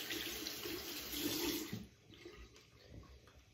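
Water runs steadily from a bathroom tap while hands are washed, a broad continuous rush that is loud for nearly two seconds and then drops to a softer trickle.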